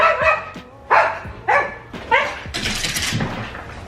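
A dog barks in a home, several sharp, loud barks spaced about half a second apart, close by, then a burst of rustling scuffle as the barking breaks off.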